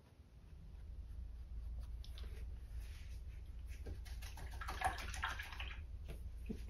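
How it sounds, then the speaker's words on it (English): A paintbrush swished and rinsed in a water container during acrylic painting, a faint close sloshing and dabbing that grows busier midway, over a steady low room hum with no talking. "Rinse my brush out"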